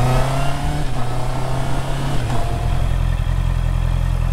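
A 2024 Honda CB650R with E-clutch pulls away from a start in first gear, its four-cylinder engine droning close and loud, pitch rising then settling into a steady low hum.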